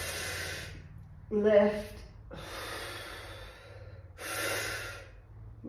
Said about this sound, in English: we're going to breathe through our mouth. Turn to the right and exhale